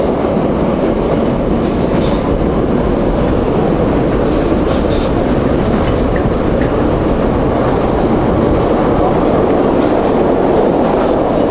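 An old metro train car rumbles loudly and continuously, wheels clattering on the rails with occasional high metallic squeals.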